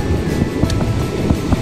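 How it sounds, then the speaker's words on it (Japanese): High ocean waves roll onto the shore, a loud continuous wash of surf with rhythmic low thumps and gusty wind buffeting the microphone. "波高いですわやっぱ。"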